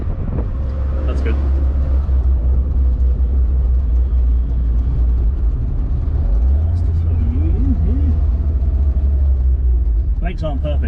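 A 1981 Fiat 124 Spider driving along with a steady low engine drone that shifts pitch as it moves through the gears, under wind noise and people talking.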